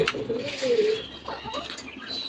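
A pair of pigeons cooing near their chick, a soft throaty coo followed by brief rustles and faint chirpy sounds, close and quiet.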